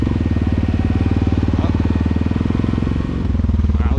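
A Honda Rancher ATV runs at full throttle in thick clay, a loud close engine with a steady pulsing thump that dips briefly near the end, with no talking.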